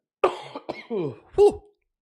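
A person coughs a few times in quick, rough bursts, the loudest near the end, close to the mic with no other sound around.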